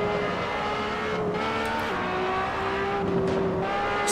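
Engine of a fast race car in Assetto Corsa, a continuous high-revving drone that shifts pitch as the car accelerates and eases, loud and steady throughout with faint tire noise.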